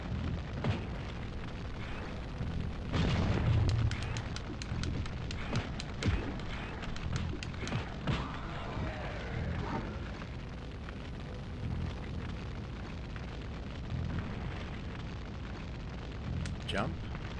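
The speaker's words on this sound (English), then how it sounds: "Watch out for explosions. There's a lot of them." Repeated explosions in the Nightmare Creatures game on Nintendo 64, heavy rumbling bursts rolling through a continuous noisy game soundtrack, with one stronger blast early on.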